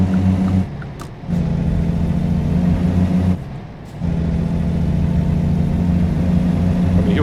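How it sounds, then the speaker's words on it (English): A car passing on the highway in American Truck Simulator, heard as a steady loud engine drone with brief dips, as if other traffic goes by close. "Oh, got a car coming."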